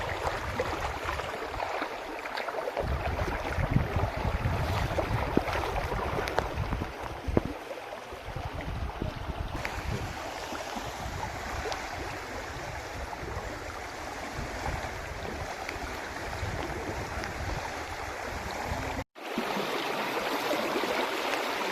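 A monsoon-swollen river rushes and gurgles steadily nearby, a dense continuous wash of flowing water with brief louder splashes, broken by a short cut near the end.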